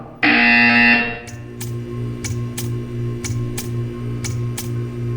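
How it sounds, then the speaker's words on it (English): A loud, harsh buzzer in the video game Portal 2 blares for about a second, followed by a run of sharp clicks over a steady low electronic hum. "When you hear the buzzer, stare at the art."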